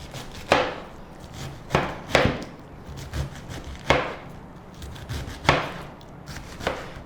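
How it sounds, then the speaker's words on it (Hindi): Cabbage sliced into small pieces with a knife on a board, a steady series of six or so firm chopping thumps spaced about a second apart, close and clear with no talk. "गोभी को आपने इस तरीके से छोटे छोटे स्लाइसेस में काट देना है।"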